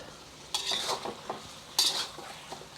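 Beef and broccoli stir fry sizzling in a hot pan, with a steady background hiss broken by two louder bursts of stirring and scraping, close and without talk.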